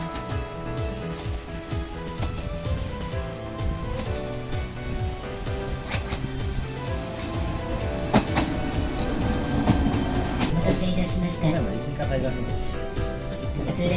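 Freight train passing through Osafune Station on a cold, sunny winter day in Setouchi, with a steady broadband rumble and clatter of wagons throughout and people talking over it.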